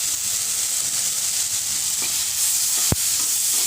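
Ground spices for a fish curry, turmeric, red chilli, cumin and coriander, sizzle steadily in a frying pan while being stirred, with a sharp clack of the utensil near the end.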